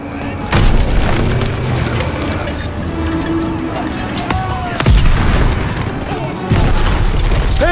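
A German Panzer tank explodes in the Call of Duty WWII video game, with heavy booms landing close and loud amid sustained battle noise, mechanical clatter and scattered gunfire.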